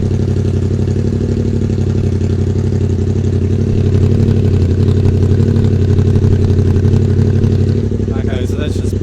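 A Yamaha Tenere 700 motorcycle engine runs with no exhaust pipe fitted, a loud, steady, raw clattering rumble held close for the whole stretch.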